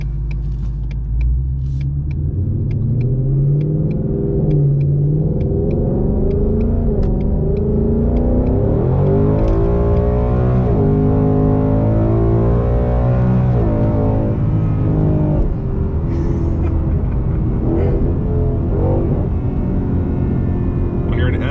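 A 2020 Ford Mustang GT's deep V8 exhaust roars as the car accelerates down a street, its pitch rising and dropping through repeated gear shifts, loud and sustained throughout.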